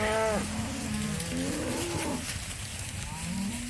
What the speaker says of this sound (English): Cattle are very, very happy.